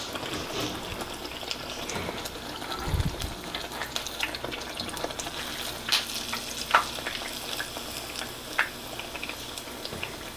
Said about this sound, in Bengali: এরকম যখন একটু লাল লাল হয়ে যাবে পিঠাটা ভাজা হয়ে যাবে তখন এটাকে তুলে নিতে হবে